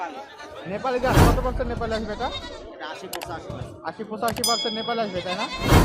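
Goats bleating repeatedly at a goat farm, several loud nearby calls mixed with people chattering, plus a few sharp knocks.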